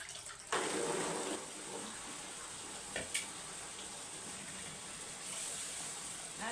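Water runs from a household tap in a home kitchen, a faint steady flow with a sudden louder surge near the start and a couple of small knocks midway.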